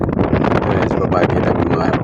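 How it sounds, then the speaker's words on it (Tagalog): Strong wind buffets the microphone at a beach resort in Calatagan, Batangas, with a constant loud roar and rumbling gusts, and no other sound breaks through. "Lakas ng hangin dyan"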